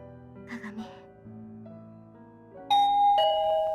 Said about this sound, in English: rang the doorbell since my hands were full